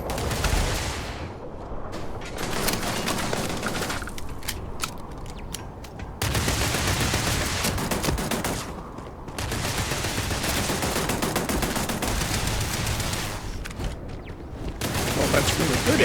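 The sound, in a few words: gunfire from a video game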